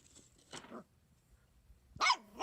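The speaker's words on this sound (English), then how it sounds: "What's that sound? Oh, puppy." A puppy gives two short, high-pitched yips about a second and a half apart, close by and clearly heard over near silence.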